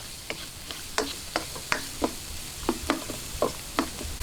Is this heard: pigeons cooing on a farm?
no